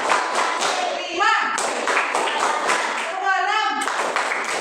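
A class of schoolchildren claps a counted rhythmic spirit cheer, with sharp group claps in steady beats while a teacher's voice and children's voices call out between them.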